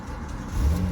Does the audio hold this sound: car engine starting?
yes